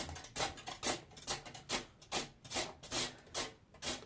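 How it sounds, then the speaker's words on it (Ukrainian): Potato grated very thin on a small hand grater, like for chips: a steady run of about ten rasping strokes in an even back-and-forth rhythm, close and clear with no voice over it. "Натерли картоплю."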